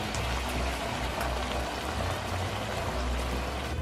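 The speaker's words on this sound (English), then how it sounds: "Gotta add on some of that water to it." Water pours steadily into a pan of frying onions, garlic and beans, a continuous splashing hiss with a low bubbling rumble underneath, close and even throughout.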